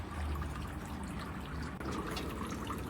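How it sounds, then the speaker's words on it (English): Water trickles and drips softly and continuously from a temple fountain in a quiet setting in Tokyo, faint and close, with no voices. "you take some water here from the fountain"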